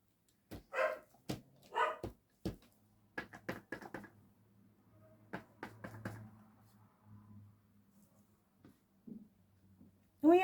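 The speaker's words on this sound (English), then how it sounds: "What are you barking at, Nelson?" A dog barks in a series of sharp, separate woofs, some close together, with quiet gaps and faint low rumbling in between.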